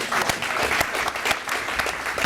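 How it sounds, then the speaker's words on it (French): A studio audience on a talk show applauds loudly, with dense clapping and a few sharper individual claps standing out in a steady, enthusiastic burst. "Je préfère qu'on applaudisse très fort."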